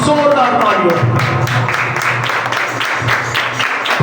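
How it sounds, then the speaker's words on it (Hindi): A congregation at a Christian worship gathering bursts into loud, broad applause after a voice calls for it, with voices mixing into the clapping. "आपकी जोरदार तालियों।"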